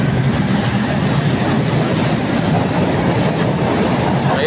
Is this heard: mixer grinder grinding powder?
no